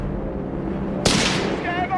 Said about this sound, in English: MG's opened up on us!